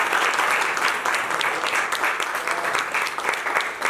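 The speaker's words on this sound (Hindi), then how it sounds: "इनके लिए जोरदार तालियां" A theatre audience applauds Mrs. Neeta Gupta after a play at a drama festival, dense continuous clapping that stays loud and even for several seconds.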